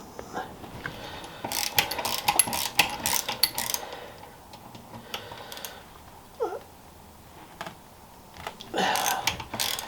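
A socket wrench ratchets in bursts of fast, close clicking, with pauses between runs and a brief voice in between.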